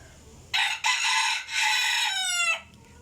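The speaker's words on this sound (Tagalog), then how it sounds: "Itong manok talaga." A rooster crows nearby, one loud, drawn-out cock-a-doodle-doo with a brief break, ending in a falling, rippling tail against a quiet background.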